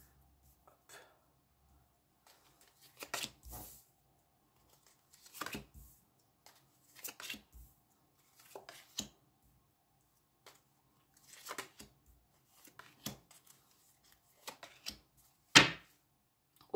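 Tarot cards are shuffled and laid out one by one on a table. Quiet, scattered soft taps and brief slaps of cards come in irregular clusters, with near-silence between them.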